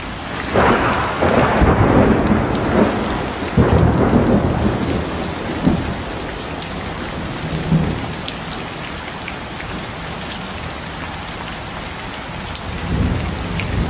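A thunderstorm breaks over a city in the afternoon, with heavy rain pouring down and close, loud rumbles of thunder rolling repeatedly above the steady hiss of rainfall.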